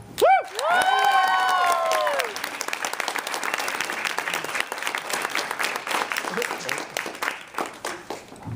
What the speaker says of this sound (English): everyone please give a round of applause for Hoi Nam Nguyen